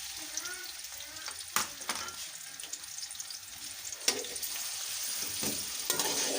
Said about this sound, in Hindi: सबसे पहले हम इसमें प्याज डालेंगे।